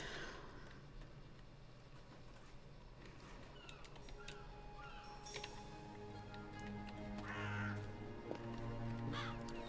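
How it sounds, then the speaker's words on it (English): Crow calls from the video game Dreamfall Chapters sound over a busy, dense ambient background, a few short caws standing out near the end amid clicks and layered noise. "Crow?"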